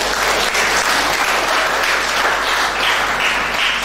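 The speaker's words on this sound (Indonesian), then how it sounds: "Kita berikan tepuk tangan Tuhan Yesus." Loud, sustained applause from a church congregation at a Batak wedding ceremony, right after the couple is declared husband and wife, a dense steady wash of many hands clapping together.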